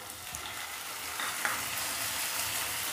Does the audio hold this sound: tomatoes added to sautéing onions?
yes